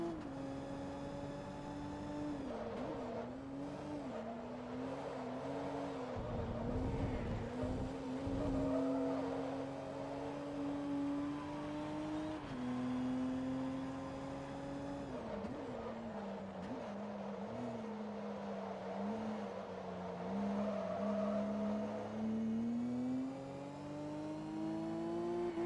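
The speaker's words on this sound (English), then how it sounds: "I love the way that this engine sounds." A race car engine in Forza Motorsport 2 hums and whines steadily, pitch rising and falling as it revs and shifts, with no voices.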